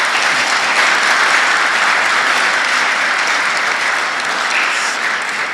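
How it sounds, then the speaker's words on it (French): A conference audience at Paris city hall applauds, a dense, even wall of clapping that holds steady throughout with no pause. "Je vous demande de l'applaudir"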